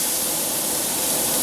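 Chicken pieces sear in oil in a frying pan, a steady, dense sizzle filling the whole moment close up with no pauses.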